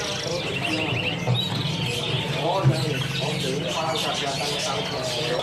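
Caged canaries chirp in quick, bright bursts at the Pramuka bird market, layered with nearby voices and busy market hubbub.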